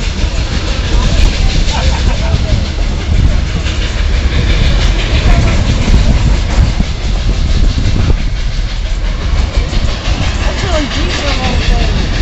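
Train with locomotive 473 rolling past, loud continuous rumble and rhythmic clatter of cars close by, with voices talking over it.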